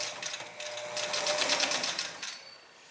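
A sewing machine topstitching a shirt cuff placket, a quick close rattling run of stitches that speeds up in the middle and then stops, with no talk.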